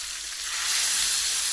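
Hot oil tempering for tomato toor dal sizzles and crackles in a pressure cooker, a steady close hiss that swells louder partway through, with no talking.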